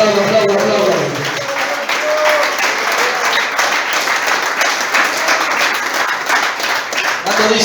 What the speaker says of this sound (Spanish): Aplauda, aplauda, aplauda, aplauda, aplauda.